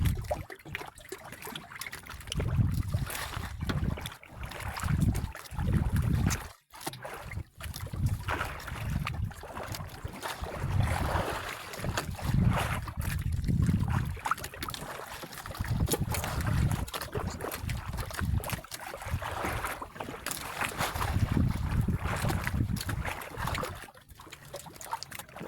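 A boat out on the water at night during squid fishing, with a steady low rumble, sloshing water and wind noise running throughout at moderate level and no talk.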